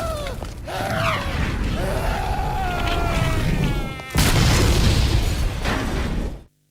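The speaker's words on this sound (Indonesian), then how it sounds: "meledakkan tempat itu, sehingga Sergio mati terbakar" A harbour explodes in the Mafia video game. A sudden loud, broad blast cuts in partway through and roars on over game music and in-game voices before stopping abruptly.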